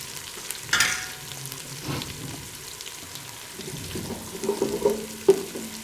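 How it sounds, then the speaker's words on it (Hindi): Ginger garlic paste fries in a pan with onion, giving a soft, low sizzle that rises and falls. A spoon stirs and scrapes it now and then, and a few clinks stand out toward the end. "अदरक को थोड़ी देर फ्राई करें।"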